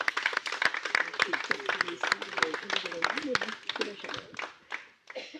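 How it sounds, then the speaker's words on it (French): Scattered audience applause at a civic presentation, fairly close and uneven, with voices talking over the clapping before it thins out and fades near the end. "Vous pouvez les applaudir, effectivement."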